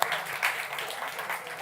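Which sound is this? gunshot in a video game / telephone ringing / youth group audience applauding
youth group audience applauding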